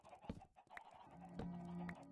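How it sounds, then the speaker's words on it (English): Minecraft chickens cluck in a few short, soft bursts, with a held tone near the end that sounds like a game noise. "We got a freaking army of chickens"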